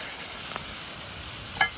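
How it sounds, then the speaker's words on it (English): Quiet, steady sizzle of chicken frying in a pot outdoors, with a soft stir and a brief clink near the end. "Chicken are frying, can smell the goat."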